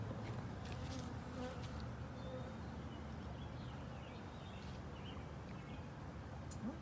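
Honeybees hum around a hive at a zoo, where comb is building up beside a queen cell box; a steady, soft drone of many insects continues without a break, with faint individual buzzes passing close by.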